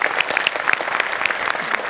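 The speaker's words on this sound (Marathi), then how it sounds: "जोरदार टाळ्या तिच्यासाठी" Audience applause for an actress at a Marathi comedy stage show, a dense, steady burst of clapping with no gaps, close and loud throughout.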